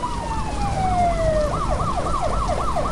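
A police car siren in a video game under development: a steady falling tone gives way to a rapid, repeating wail that cycles up and down, loud and near, with engine noise beneath.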